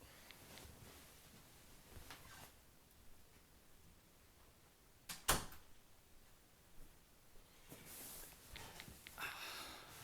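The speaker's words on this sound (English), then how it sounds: "I gotta close my door real quick" A room door swings shut once with a sharp, fairly close knock midway, set against quiet room ambience with light rustling and shuffling before and after.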